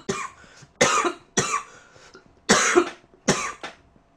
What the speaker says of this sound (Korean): 기침하는 소리 들을 때 여러분 짜증나죠?